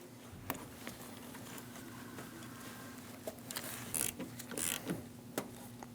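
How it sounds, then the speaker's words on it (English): Ratchet snugging down the negative battery cable terminal on a 2011-2018 Ram 1500 5.7L V8, quiet irregular clicks and short metallic ratcheting bursts close by, with light handling noise between them. "Snug down the terminal, get it nice and tight."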